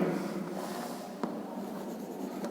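Continuous writing on a board during a physics lesson on refraction, a steady, soft, even scratch with a couple of faint taps, close and without speech.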